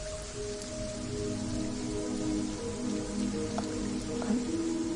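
Steady rain falls beside a school verandah, a dense, even wash of drops with a few faint drips standing out, continuous and fairly close throughout.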